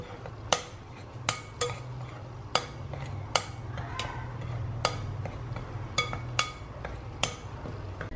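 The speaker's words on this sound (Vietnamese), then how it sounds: "Dùng muỗng đảo đều." A metal spoon stirs two kinds of flour together in a large bowl, giving sparse, sharp clinks and scrapes against the bowl over a quiet, steady background hum with no talking.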